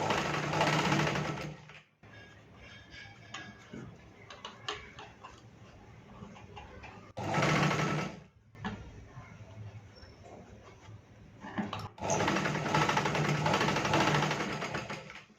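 A sewing machine stitching a blouse runs in loud, close bursts, with quieter ticking, rattling and fabric handling between the runs and one short burst in the middle.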